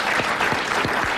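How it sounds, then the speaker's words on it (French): A radio studio audience at a French comedy panel show gives a dense, steady burst of applause, loud and close, with no talk over it. "applaudissements pour Madame Fournet."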